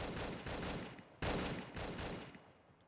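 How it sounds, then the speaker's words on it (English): Automatic fire from an AK-47U with a drum magazine in a video game: two fairly quiet sustained bursts of rapid shots, the second a little louder, ending in a faint tail. "Got a drum gun. AK-47U."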